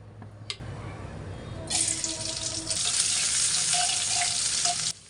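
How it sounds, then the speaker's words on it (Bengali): Chicken frying in a hot pan, a steady close sizzle that swells louder partway through and holds to the end, with faint clinks of stirring. "এখন আমি চিকেনটা রান্না করে নিচ্ছি"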